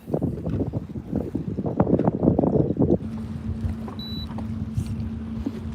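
Wind gusting over a bass fishing boat on open water, loud buffeting rumble for a few seconds that eases into a steadier low hum of the boat with light wind noise, no talk.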